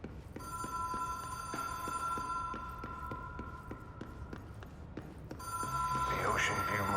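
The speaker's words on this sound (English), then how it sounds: "That's the phone ringing, right?" A telephone rings in the video game Control, a repeating electronic bell pattern with steady pulses that stops briefly then resumes louder near the end, over a low game ambience.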